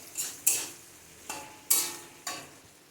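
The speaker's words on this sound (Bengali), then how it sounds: "নাড়াচাড়া করব।" Bengali fish curry (macher jhol) being stirred in a pan, heard as five soft scraping, swishing strokes in an uneven rhythm, each one rising quickly and then fading, close by with no talking.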